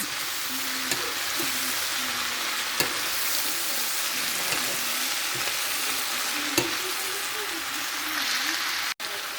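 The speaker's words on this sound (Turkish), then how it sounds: "5 dakika kadar kavuruyoruz arkadaşlar" Peas frying in a pan for a Turkish leaf pea dish, with a dense, steady sizzle like light rain and occasional sharp clinks of a utensil stirring against the pan, heard up close.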